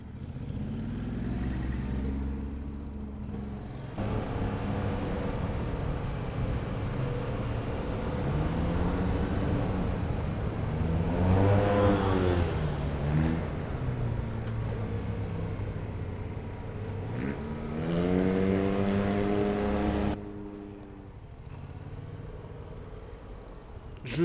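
A Brabus 900 car accelerating hard, heard from inside as a deep engine roar that climbs in pitch through two rising sweeps over a steady rumble, with brief murmured talk.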